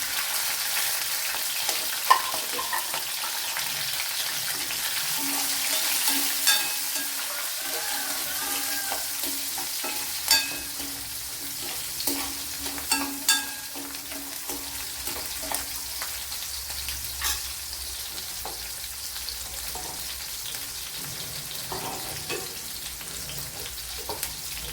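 Large garlic cloves and small shallots frying in oil for a squid stir-fry, a continuous moderate sizzle with scattered spatula taps and clatters, no voices.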